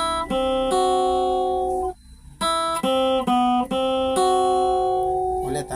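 Guitar playing the next part of a song, a run of sustained, clearly ringing notes plucked one after another at a moderate pace, loud and close with a brief pause midway and no talking.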